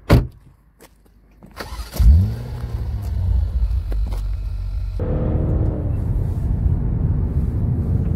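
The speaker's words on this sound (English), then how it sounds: "I am driving this wonderful Maserati Levante Trofeo SUV around Switzerland" A Maserati Levante Trofeo SUV starts up with a loud burst, then its engine revs and settles into a deep, steady rumble as it pulls away, close and loud.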